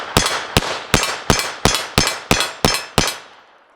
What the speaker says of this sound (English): let's see how the Taurus does. All right, Taurus with all clean ammo. Let's give this one a shot here. All right, a little rapid fire test.